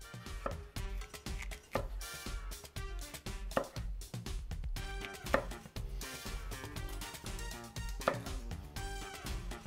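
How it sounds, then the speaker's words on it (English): A knife slices a bell pepper into strips on a cutting board, with a series of crisp irregular chops sounding over steady background music. "I'm just gonna cut this into strips"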